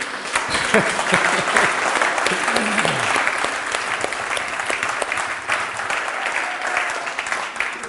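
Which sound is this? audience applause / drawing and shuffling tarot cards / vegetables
audience applause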